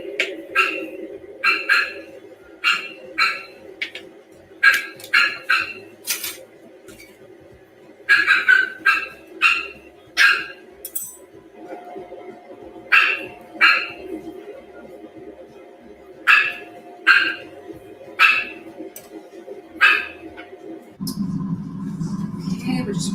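Several dogs bark repeatedly in short bursts at a delivery person outside, loud and close, over a steady household hum, with a lower rumble taking over at the end.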